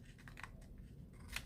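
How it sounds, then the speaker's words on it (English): Scissors snip the glued paper ends of a gingerbread-man Christmas craft, giving a couple of short, faint cuts over a low background hum. "Now I take with my scissors and I cut off the ends."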